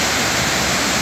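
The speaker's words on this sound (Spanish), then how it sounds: "de la famosa cascada El Pailón del Diablo, mira." Heavy, steady roar of the El Pailón del Diablo waterfall in Baños, a dense unbroken rush of falling water filling the scene at close range with no voices.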